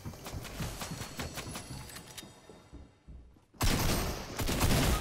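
Gunfire in Fortnite, rapid repeated shots crackling through the first seconds, then a loud burst of noise near the end.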